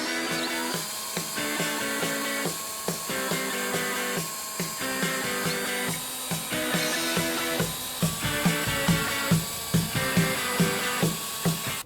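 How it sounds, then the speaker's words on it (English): A rotary polisher with a wool pad and cutting compound works a hazy, yellowed headlight, giving a steady high whine with a regular pulsing rhythm as the pad sweeps back and forth, close and loud, without talk. "we'll start polishing"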